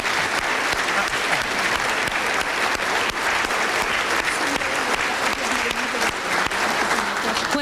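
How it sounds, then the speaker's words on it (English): An audience applauds two conference panels at an afternoon session on the CIA during the Truman administration, with steady, dense clapping filling the room for the whole stretch and no one speaking over it. "I'd like to have a round of applause for both panels this afternoon."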